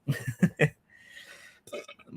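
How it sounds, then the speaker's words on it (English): A person burps several times in quick succession, close and fairly loud, with a softer breathy pause and another short burst afterward. "burped a little bit there."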